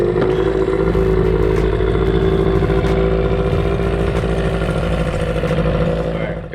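An outboard motor runs steadily at close range, a loud, even mechanical drone with a rattling clatter and slight wavering in pitch throughout, with no voices.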